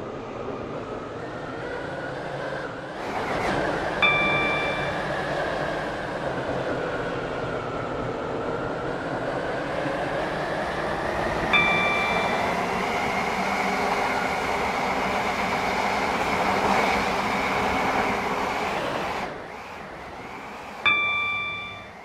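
A train on a Stepford Connect service to Benton in a video game rumbles steadily throughout, with a few short chime tones sounding over the running noise and no one speaking.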